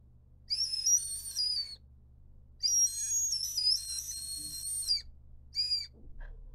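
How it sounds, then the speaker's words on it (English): Grape-flavored whistle gum from a Japanese snack box produces shrill, high-pitched whistles in three bursts, two long and one short, with quiet pauses between them. "So this is why it's called whistle gum."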